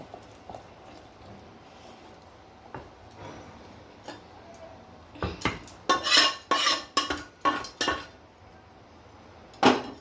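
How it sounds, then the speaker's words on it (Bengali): Cooked corn manchurian is tipped from a pan into a bowl, with a burst of close metallic scrapes and clatters from the spoon and cookware after a quiet stretch, then one last clink. "বাটির মধ্যে ঢেলে নিলাম।"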